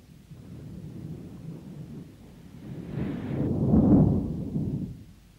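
Thunder in an Afrikaans Heidi audio drama: a stormy night, with a long low rumble that swells to a loud crash around the middle and then rolls away.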